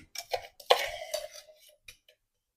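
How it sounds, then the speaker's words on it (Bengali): Date palm jaggery added to thickened boiled milk in a pot, heard as a few close metallic clinks and scrapes of a spoon against the pot, brief and fairly quiet. "দুধের মধ্যে দিয়ে দেব কিছুটা খেজুরের গুড়"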